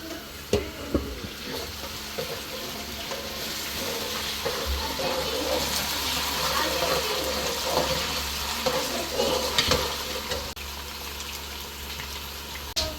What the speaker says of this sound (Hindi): अभी हमने आलू ऐड किए, थोड़ा सा फ्राई होने देंगे।